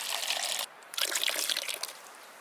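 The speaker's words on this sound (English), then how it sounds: "I'll put a splash of cold water in now that the charcoal's in there" A splash of cold water poured onto coffee grounds and charcoal makes a soft hissing, trickling rush that pauses briefly and then resumes before fading out.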